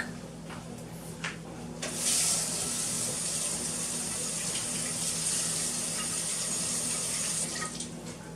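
Fresh dill sprigs are rinsed under a running kitchen faucet, the water gushing steadily and fairly loud for several seconds after a few faint clicks and knocks.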